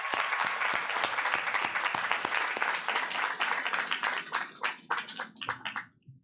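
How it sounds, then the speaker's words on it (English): Audience at a 2022 cyber school graduation ceremony claps, a dense burst of applause that thins into scattered individual claps before stopping. "Let's clap it up"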